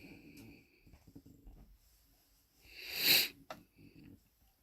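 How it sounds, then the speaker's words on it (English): A sharp breathy gasp over the phone in the game 60 Seconds! Atomic Adventure rises and fades midway, amid quiet rustling and faint low sounds. "When we answered the phone, we could clearly hear a gasp."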